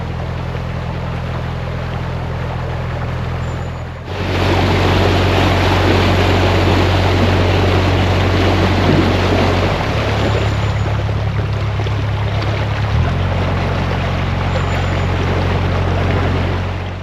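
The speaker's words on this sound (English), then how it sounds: "the boat that's just come up is obviously going to go up the Colvin Canal" A boat engine drones low and steady nearby on a canal, its pitch shifting as it moves past, with a wash of water and wind noise.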